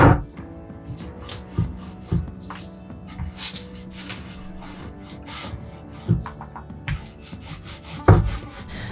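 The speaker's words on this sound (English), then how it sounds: "now I'm gonna go over it with 2 coats of primer." A roller spreads primer over an Airstream bathroom cabinet, making soft rubbing strokes punctuated by occasional knocks and clacks.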